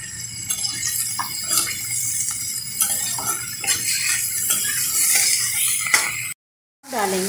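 Turmeric, red chilli powder, garam masala and crushed ginger sizzle in a hot pan with paneer, a steady close frying hiss with light scraping and clinks of a spoon, cut off abruptly near the end.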